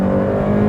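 A Mini GP2 road-legal race car engine holds a steady, loud, close drone for a brief moment as the driver drops down to second gear.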